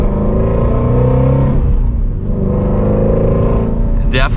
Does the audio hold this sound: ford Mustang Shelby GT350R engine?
yes